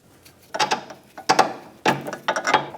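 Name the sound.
removing the nut from an Infiniti G35 front sway bar link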